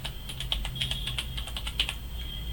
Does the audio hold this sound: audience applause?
no